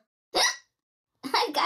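A child's hiccups, heard during the Endless Wordplay mobile game: one sharp hiccup, a pause, then two more quick ones close together, near and alone in otherwise quiet surroundings.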